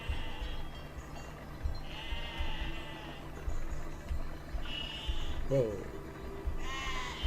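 Sheep in the video game Besiege bleating repeatedly, several wavering cries spread across the scene over a low rumble, with someone talking and exclaiming throughout.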